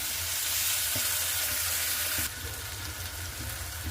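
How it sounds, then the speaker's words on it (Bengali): Tomatoes frying in oil in a pan, a steady close hiss and crackle with faint stirring taps, the sizzle easing slightly partway through. "দেখো, টমেটোটা আমার অনেকটা ভাজা হয়ে গেছে।"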